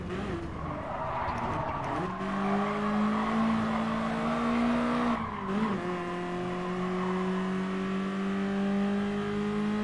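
Race car in the racing game Gran Turismo Sport, a loud sustained engine drone shifting pitch through a corner as it brakes and accelerates, with a faint tire squeal and continuous close in-car roar.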